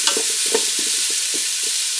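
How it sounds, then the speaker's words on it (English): Fully cooked food being sautéed and stirred in a pan, a steady close sizzle with repeated scraping clicks of a utensil at an uneven rhythm. "I'm just sauteing these"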